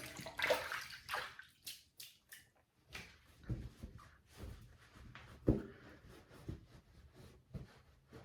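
Hands being rinsed of shaving soap under running water, a close, uneven splashing and sloshing with repeated bursts as the hands move through the stream.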